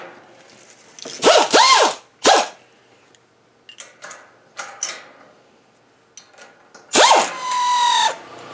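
Lock nuts are tightened while a YUTRAX TX158 utility trailer is assembled: short bursts of a power tool whine and rising, alongside scattered clicks and metallic clanks between them, close and loud.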